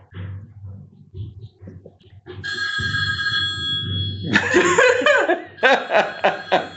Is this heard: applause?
no